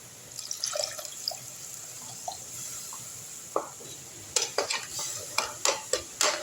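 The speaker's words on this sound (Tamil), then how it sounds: "புளி தண்ணியை ஊற்றிடலாம்" Tamarind water pours into a hot pan of sautéed ingredients for vatha kuzhambu with a soft sizzle, followed by a string of sharp clinks and scrapes from stirring.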